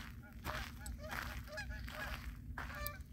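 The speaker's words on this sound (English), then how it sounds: "I got some geese going by." A flock of geese honks repeatedly as it flies past over the San Leandro Marina Dog Park, with fairly close, overlapping calls and no talking.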